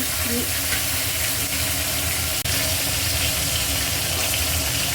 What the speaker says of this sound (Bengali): এবার আমি এই তেলেই ফুলকপিগুলো ভেজে নেব